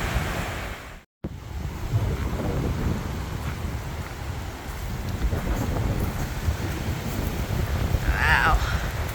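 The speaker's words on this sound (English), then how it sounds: "It is super windy." Strong wind blows at a lake, a continuous rough roar buffeting the microphone at close range, broken once by a brief dropout, with lapping water beneath and a faint voice near the end.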